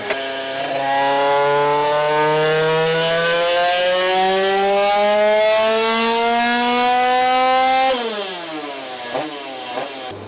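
A motorcycle with a 86 cc aluminium top end running rich revs loudly on a dynamometer, steadily climbing in pitch for several seconds, then drops off and blips a few more times.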